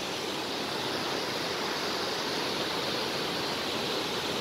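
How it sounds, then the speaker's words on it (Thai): Strong waterfall running hard after several days of continuous rain, a loud, steady broadband rush of falling water that fills the whole scene without a break, with no voices over it. "น้ำตกนะคะ"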